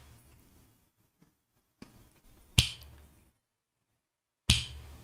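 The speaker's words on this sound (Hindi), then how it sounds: "मैं अब आप लोगों के सामने तुरंत एक चुटकी बजाता हूं।" Three sharp finger snaps ring out in a quiet room, spaced unevenly, with a low murmur of background noise between them.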